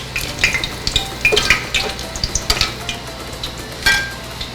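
Meat fries for hubad adobo in a pan, crackling and popping close by in irregular bursts, with light stirring and clinks of utensils.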